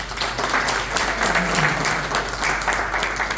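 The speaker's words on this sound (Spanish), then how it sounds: "Un aplauso a la doctora." Audience at a formal presentation on prehistoric man applauding a doctor as she is introduced, steady dense clapping from a room full of people, fairly even in loudness throughout.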